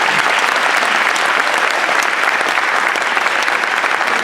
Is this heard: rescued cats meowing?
no